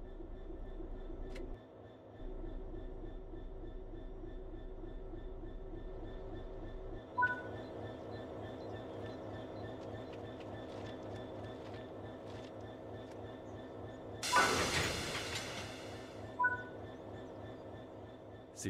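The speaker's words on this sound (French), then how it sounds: "Dételons les wagons à pied pour cette fois." Freight wagons being uncoupled from a Class 66 diesel locomotive in Train Sim World 3: a steady idling engine rumble, then a loud clanking burst with a hiss of released air near the end, followed by a short metallic knock.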